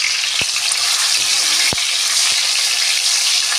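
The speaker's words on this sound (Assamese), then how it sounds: "প্ৰথমতে মই আলুখিনি ফ্ৰাই কৰি ল'ম।" Cubed potatoes fry in a pan over a high gas flame, a steady broadband sizzle with a few sharp pops and clicks, close and continuous with no talk.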